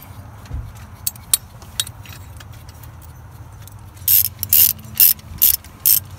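A hand ratchet tightens bolts on a Duramax 6.6 bypass oil filter mount, with a few faint clicks followed by five loud, close, rhythmic ratcheting bursts near the end.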